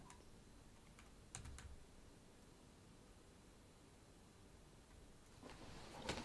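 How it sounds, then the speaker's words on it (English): Typing on a computer keyboard set into a hole in a desk, with a short burst of close, quiet clicks, a long lull, then another cluster of keystrokes at the end. "Yeah, that sound is my keyboard"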